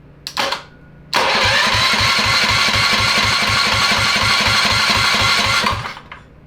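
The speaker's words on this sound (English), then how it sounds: "So we're testing it to see if it has the oomph to crank this thing over." A mini dirt bike's small engine cranks briefly, then catches and runs loud and steady for about five seconds with a rapid, even putter before cutting off, close by.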